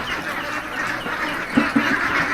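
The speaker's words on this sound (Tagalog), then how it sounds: "Yan na ang itik." Ducks on a newly built ground-level duck farm in Davao, Philippines, give a few short quacks over a dense, noisy background of many birds.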